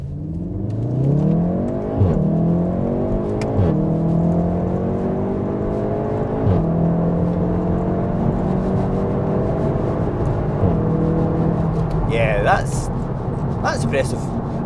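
A VW Golf 7.5 R in race mode with manual shifting accelerates hard from about 10 mph, its engine climbing through several gears in a repeating rise-and-drop pattern, loud and close from inside the car, with a brief voice near the end.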